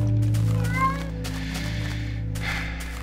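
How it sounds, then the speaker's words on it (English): Cat in Minecraft: a short, clear meow rises over a steady background tone, followed by a quieter, fainter mew a moment later. "Oh, cats. Are cats good for anything?"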